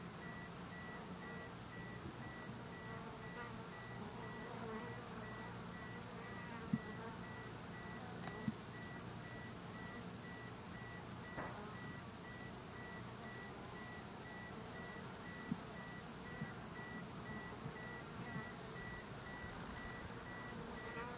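Japanese honeybees (Apis cerana) buzzing steadily at their hive, a dense continuous drone with bees fanning nearby, faint occasional clicks, no talking.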